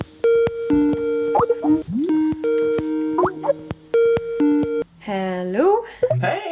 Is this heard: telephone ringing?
yes